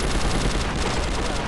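Rapid gunfire from the video game Prototype 2, dense bursts like machine-gun fire in a firefight, loud and continuous with no talk.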